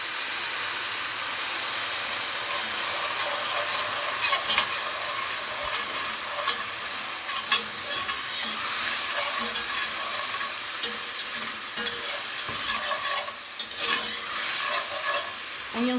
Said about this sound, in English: and you're going to get a sizzle.